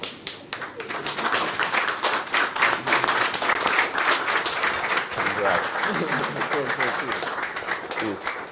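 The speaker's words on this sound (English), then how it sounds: "Let's give a warm round of applause for Ceaser Siwale." A crowd applauds steadily, dense clapping that swells and sustains for several seconds without letting up.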